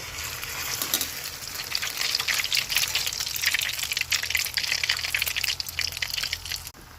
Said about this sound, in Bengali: কড়াইতে তেল দিয়েছি, তেল গরম হয়ে গেছে। এখন পাউরুটিটা দিয়ে দিব।